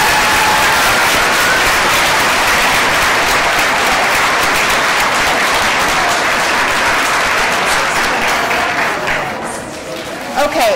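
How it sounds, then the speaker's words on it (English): A commencement ceremony audience applauds graduates with loud, sustained clapping that continues for about ten seconds before briefly dipping, with some voices mixed in beneath it. "let's give them a round of applause,"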